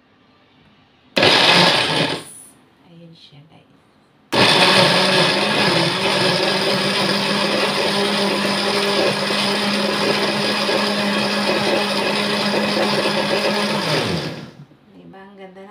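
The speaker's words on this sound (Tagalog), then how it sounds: "plug natin yung blender machine. Lagay na natin. Lock." A blender whirring as it blends an apple pomegranate smoothie: a short loud burst, a pause, then a long steady loud grind of about ten seconds that stops abruptly, with brief talk in between.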